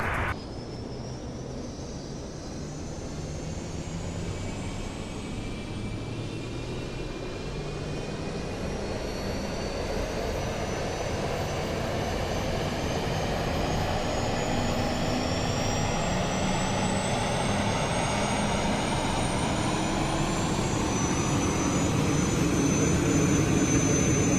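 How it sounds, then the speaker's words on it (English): Emirates A380 APU starting in Microsoft Flight Simulator 2020, a steady turbine hum and rising whine that swells gradually and keeps building over the whole span, heard alone without voices. "We are starting the APU now"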